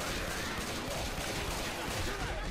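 Gunfire in the video game Left 4 Dead, a dense continuous burst of rapid shots blending into a roaring wall of noise, loud and unbroken across the moment.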